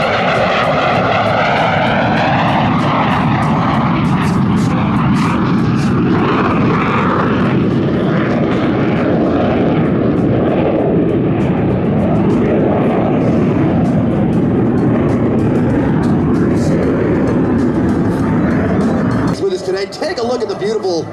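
An A-4 Skyhawk jet roars through a flying demonstration at NAS Lemoore, its loud, sustained engine noise shifting in pitch as it passes, while a narrator talks over it; the roar cuts off abruptly near the end.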